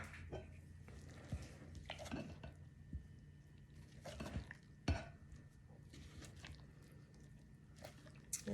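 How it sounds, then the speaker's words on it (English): Sourdough bagel dough of bread flour and water being stirred in a bowl, with a spoon scraping and knocking against the bowl in irregular clinks and soft sticky squishes, close and fairly quiet, no talking. "So now I'm going to go ahead and stir all that together."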